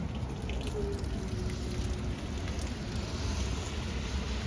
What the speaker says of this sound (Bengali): অনেক বেশি বৃষ্টি